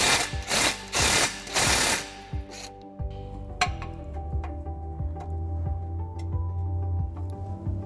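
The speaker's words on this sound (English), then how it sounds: "In order to do that, we're going to have to loosen this bolt." A ratchet turns a bolt on the frame rail of a 2021 Jeep Wrangler during a flat-towing baseplate install, with loud bursts of clicking at the start and then lighter, steady ticking and faint mechanical clatter.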